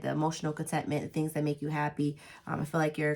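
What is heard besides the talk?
No distinct noise like a dog, phone or traffic.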